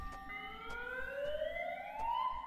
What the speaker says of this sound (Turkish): Siren çaldı